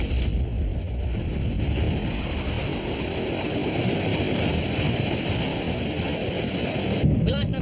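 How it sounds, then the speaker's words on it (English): A jet airliner descending after losing its number 3 engine, heard as a loud, steady cabin roar with a high whine, under a voice. "It looks like we've lost number 3 engine and we're descending rapidly."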